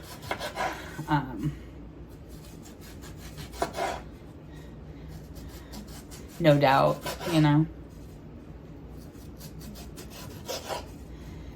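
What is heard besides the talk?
chopping nectarines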